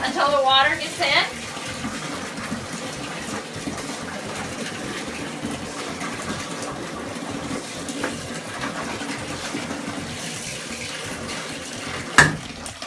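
Cold tap water runs steadily into a basin to soak a stained vintage Alfred Shaheen dress, a constant close splashing hiss throughout with a brief clatter near the start and a sharp knock near the end.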